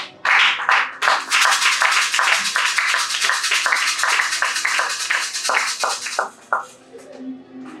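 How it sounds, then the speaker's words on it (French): A church congregation claps and cheers in acclaim of the Lord, a sustained burst of loud, crowded applause with rhythmic clapping that rises quickly and then tapers into a few scattered claps. "Si tu crois en cela, acclame le Seigneur"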